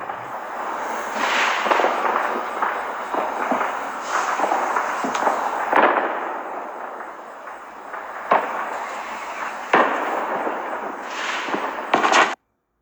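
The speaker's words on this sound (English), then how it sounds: "if we're talking about videos or pictures and stuff of the fireworks right there" Fireworks burst repeatedly over about twelve seconds, a dense rumbling crackle punctuated by sharp louder bangs at irregular intervals, loud and sustained, ending abruptly.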